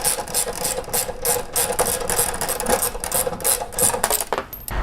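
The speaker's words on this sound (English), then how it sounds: "It helps if it's a ratcheting one, just to make the process a lot quicker." Rapid ratchet wrench clicking while turning a 5/8 bolt during installation of lights on a vehicle, a steady, close, fairly loud run of fast clicks lasting throughout with no talking.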